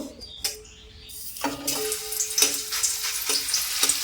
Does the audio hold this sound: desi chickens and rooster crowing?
no